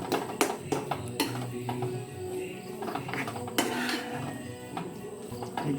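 A spoon stirs a potato and vegetable dry masala mix in a pan in a home kitchen, with repeated metallic clinks and scrapes in an uneven rhythm and a faint background hum.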